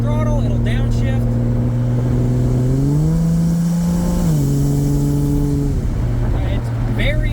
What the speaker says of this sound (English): So if I were to give it some throttle, it'll downshift.